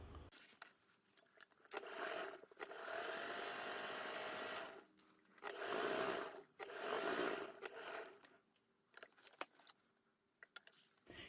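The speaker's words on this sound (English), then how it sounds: "So follow me over to the sewing machine." A sewing machine stitches a 3/8-inch seam in fabric, running in several bursts of fast, whirring, rattling stitching separated by short pauses, close and fairly quiet.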